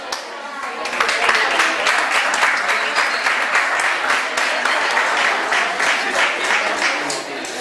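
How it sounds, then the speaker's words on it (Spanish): Warm audience applause welcoming student singers at the opening of a singing workshop, starting quickly, then a full dense round of clapping held steady and loud, with some voices mixed in, easing slightly near the end. "vamos a darle la bienvenida con un fuerte aplauso a ellos"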